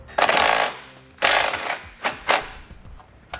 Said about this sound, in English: I'm gonna be using a 6-point 10 millimeter socket to remove those bolts.